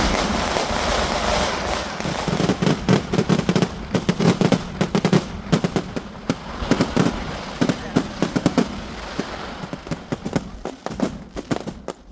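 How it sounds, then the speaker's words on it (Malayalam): Festival fireworks display exploding in a rapid, dense barrage of cracks and bangs, loud and continuous with crackling bursts throughout, people's voices faintly mixed into the din. "ഇത് കഴിഞ്ഞിട്ടായിരിക്കും നമ്മുടെ വെടിക്കെട്ട് ഉണ്ടാവുക."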